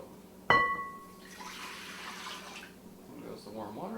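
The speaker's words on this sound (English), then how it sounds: "then I put some warm water in there" Warm water poured into a bowl to activate yeast for quinoa bread dough: a sharp clink at the start, then a gentle splashing, trickling pour, with faint talking toward the end.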